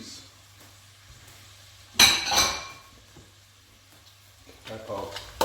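Chickpeas tip into a pot of sweet potato, coconut and bean chili. One short clatter and splatter is heard, with quieter metallic clinks near the end over low kitchen hum.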